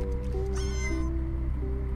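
A fly in a cockroach video game gives a clear cat-like meow, a rising and falling tonal cry heard once over a steady hum of game background sound.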